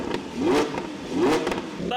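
An Audi R8 V10 with a custom full valved exhaust runs at idle, its deep engine note swelling twice in smooth waves close by, under a voice speaking over it.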